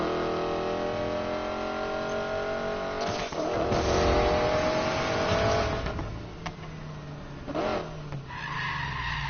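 A very fast car in Need for Speed Payback: a loud engine rises and falls in pitch as it revs, with tire skidding and squealing mixed in, close and continuous throughout.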